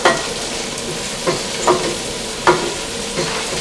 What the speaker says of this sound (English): So we're going to give this a little bit of a stir.